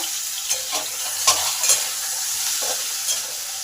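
Papaya pieces fry in a pan with a steady, loud sizzle while a spatula stirs them, adding a few soft scraping knocks close by.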